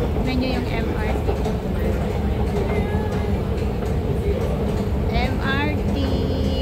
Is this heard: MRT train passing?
yes